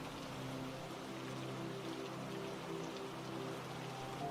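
Rain drips and patters steadily outside a cozy kitchen during a storm, a quiet, continuous wash of drops over a low hum, with no voices.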